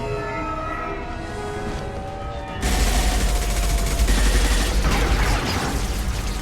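Video game gunfire erupts suddenly partway through, a loud dense barrage of shots over a low rumble that follows a quieter stretch of tonal music or sirens.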